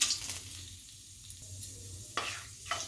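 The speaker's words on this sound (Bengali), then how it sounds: "তেলটা গরম হয়ে গিয়েছে দিয়ে দিলাম তেজপাতা একটু দিয়ে দিলাম মেথি" Oil sizzles softly in a pan as bay leaf and fenugreek seeds fry, with a couple of brief stirring scrapes.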